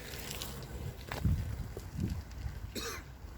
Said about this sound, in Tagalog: Nako, umubo pa yun.